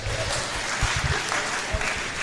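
A crowd at an outdoor market rally about new Liberian dollar banknotes claps continuously. The applause is dense and steady, with a few louder thumps close by.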